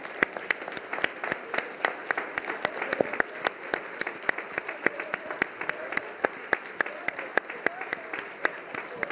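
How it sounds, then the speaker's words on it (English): An audience at a local news panel event in a history museum gives a big round of applause, dense steady clapping from many hands with individual claps standing out close by, sustained and lively throughout. "we'd love to give you a big round of applause"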